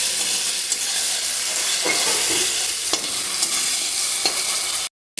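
Spices with sugar and green chillies being stirred in a hot pan, a loud close sizzle with scraping stirs, ending in a brief cut to silence.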